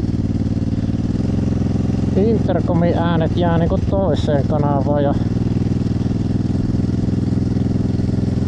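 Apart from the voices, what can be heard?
motorcycle engine sound recorded from helmet microphone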